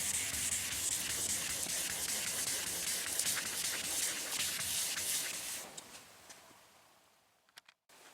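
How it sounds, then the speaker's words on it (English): Continuous gritty rubbing of wet sanding clear coat with 600-grit paper, close and steady, fading out midway and ending in a few scattered taps and clicks. "Finished up wet sanding everything with 600."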